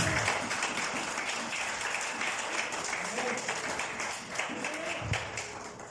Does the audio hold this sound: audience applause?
yes